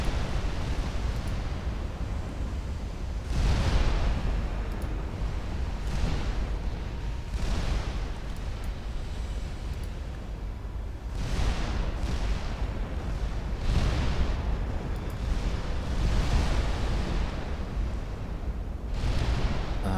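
Twelve-inch naval guns fire in the naval battle game Ultimate Admiral Dreadnoughts, producing repeated deep booms at irregular intervals, some in quick pairs, over a constant low rumble of sea and battle ambience.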